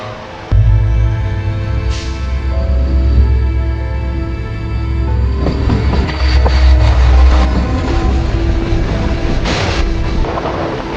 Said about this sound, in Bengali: পাশে মালগাড়ি গেল এই পাশে মালগাড়ি গেল